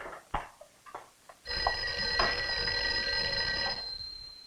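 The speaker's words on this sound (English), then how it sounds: "I think your phone is ringing." A telephone bell rings steadily and loudly for about two seconds after a few soft knocks and rustles, then fades away, with no one speaking over it.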